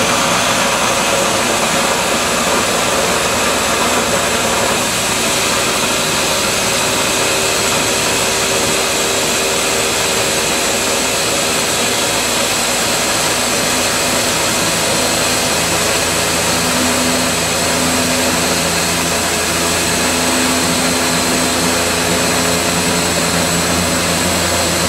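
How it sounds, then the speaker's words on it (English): A food processor blitzes basil with olive oil into basil oil, a loud, steady motor whir that runs without letup. "So now we're just going to blitz this up in our food processor"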